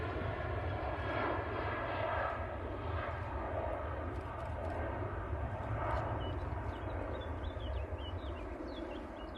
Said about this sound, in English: And the Emirates, as you can see, is on the taxi.